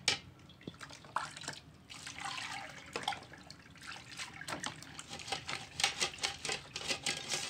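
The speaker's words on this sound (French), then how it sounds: "Lorsqu'on verse l'eau, on tourne les grains." Water poured over baobab seeds while they are stirred by hand, outdoors over a wood fire: continuous uneven trickling and splashing with irregular small clicks and drips throughout, close and moderately loud, no talking.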